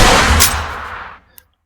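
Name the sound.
500 Magnum revolver firing in Boneworks video game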